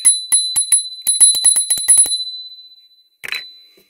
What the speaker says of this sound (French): Et la sonnette qui marche.